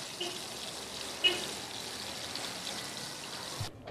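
Bofrot dough balls deep-frying in oil for sale, giving a continuous close bubbling hiss with faint crackles that cuts off abruptly at the end.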